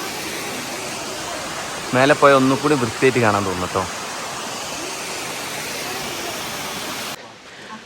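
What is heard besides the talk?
waterfall near Tiger's Nest, Bhutan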